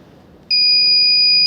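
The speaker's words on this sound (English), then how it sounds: "you can see that the buzzer is going on." A water sensor alarm's piercing electronic buzzer suddenly switches on halfway through as the sensor meets impure water, holding a steady high-pitched tone, loud and close, with no voices.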